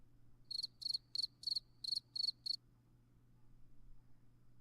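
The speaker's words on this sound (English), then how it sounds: "You gotta keep the crickets going, man." A cricket chirping sound effect played during a podcast: seven short, bright, evenly spaced chirps, then quiet room tone with no speech.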